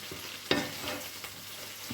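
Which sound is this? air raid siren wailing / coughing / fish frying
fish frying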